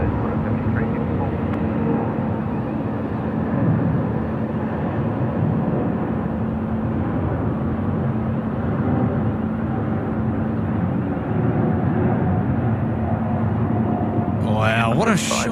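Turkish Airlines Airbus A350-900 at Sydney Airport at night, a steady, loud jet roar that holds throughout, with voices talking over it.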